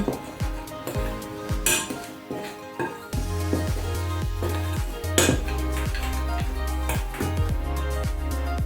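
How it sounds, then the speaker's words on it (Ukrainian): Dry ingredients for a grated pie dough stirred in a bowl, with a utensil clinking and scraping against the bowl in quick repeated strokes, close and fairly loud throughout. "І гарненько ось так нам потрібно його перемішати. Всі наші сухі інгредієнти."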